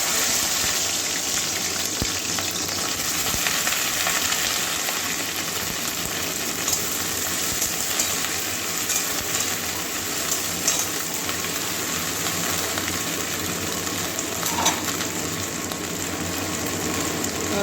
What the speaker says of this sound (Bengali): এবারে কেটে রাখা ভেন্ডিগুলো দিয়ে দেবো আগে ভেজে নেবো